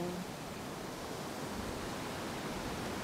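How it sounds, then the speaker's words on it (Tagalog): Rough sea waves at Balagbag Beach in Real, Quezon, roar as a continuous, even wash of surf, with no distinct breaks between waves. "Yun ang dagat, maalon."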